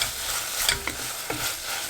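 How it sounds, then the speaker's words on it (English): A spoon stirs salt into a simmering tomato curry mixture with split black gram in a pot, giving a few soft scraping strokes over a low steady sizzle, close and moderately quiet. "Just mix that in, and I'm going to cover it and let it cook."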